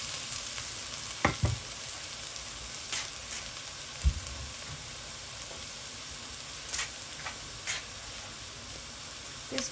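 Chilli, onion, garlic and ginger fry steadily in a pan for a Nepali gundruk dish, a continuous close sizzle broken by a few sharp clicks and stirring knocks, with no talking.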